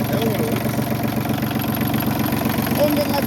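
A Massey Ferguson 1220 compact tractor engine idles with a steady, continuous mid-to-low rumble, close and even throughout, with a voice faintly present over it.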